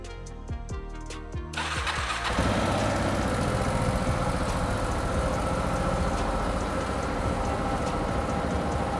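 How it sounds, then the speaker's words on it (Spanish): A Husqvarna motorcycle engine cranks with a few sputtering turns, catches, and settles into a steady, loud idle that runs unbroken to the end. "vamos a poner nuestra moto en marcha"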